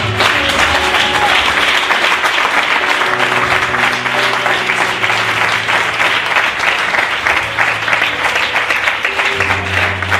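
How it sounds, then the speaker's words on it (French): A congregation claps at a wedding sermon, a dense, sustained burst of many hands filling the space steadily throughout. "Acclamons le Seigneur."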